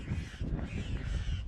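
Crows caw loudly and close together on a hiking trail outdoors, a steady chorus of harsh calls over rustling background with no talking.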